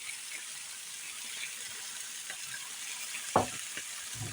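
Rabbit stew with Sicilian tomato sauce sizzles steadily in a pan, a soft continuous frying hiss with a louder stir or clatter near the end.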